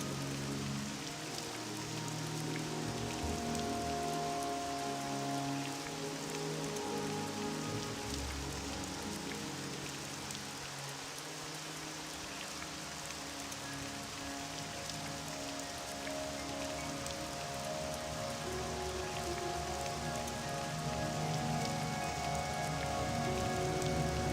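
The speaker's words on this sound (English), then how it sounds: "Raining at 1 a.m., definitely not the best traveling weather" Steady rain falls in the video game Morrowind, a dense, continuous patter and hiss of drops on surfaces that holds even and loud throughout with no voices.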